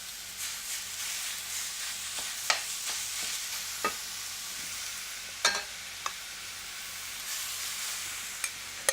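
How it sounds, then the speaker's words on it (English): Turkey and tomato paste sizzle steadily in a hot pan, with occasional sharp pops and the scrape of stirring. "Hear that sizzle going."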